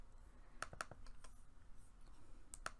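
Computer keyboard keys click sharply and sparsely as a name is typed in PowerPoint, a few quick close taps in small clusters over a faint background hiss.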